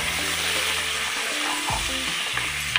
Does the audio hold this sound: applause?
no